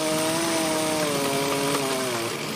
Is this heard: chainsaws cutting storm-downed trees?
yes